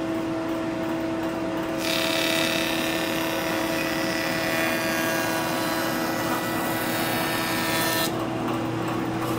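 Grizzly 6-inch jointer with a helical cutterhead runs with a steady motor hum, then a loud cutting rush as a wood edge is fed across it for several seconds before dropping back to idle.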